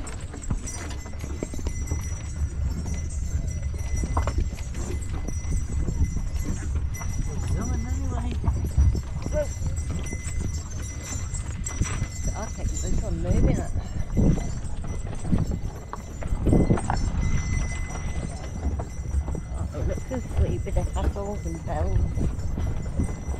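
A camel hauls a cart on a tourist ride at Vanaashirya, its feet clopping in a steady, continuous rhythm. Riders talk over the clopping and the rolling of the cart.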